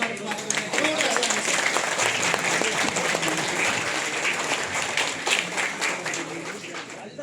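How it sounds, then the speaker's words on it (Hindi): Loud, sustained applause for chief guest Chirag Paswan at a gathering on saving the Himalaya and the Ganga, dense clapping from a large crowd filling the whole stretch with voices mixed in. "एक बार हमारे मुख्य अतिथि चिराग पासवान जी के लिए खड़े हो गए, जोरदार ताली से।"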